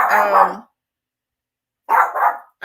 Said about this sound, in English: my dog's getting on my nerves so bad